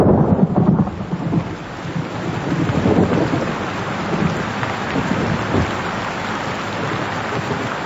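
Steady heavy rain pours down with deep rumbles of thunder rolling underneath, a dense, continuous wash of sound with gusty wind noise.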